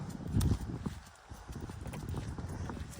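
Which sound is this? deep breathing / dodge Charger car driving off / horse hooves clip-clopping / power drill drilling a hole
horse hooves clip-clopping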